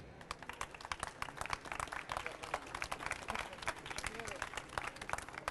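Conference audience at Campus Party applauding a speaker, a dense, steady patter of many hands clapping throughout, with some voices mixed in.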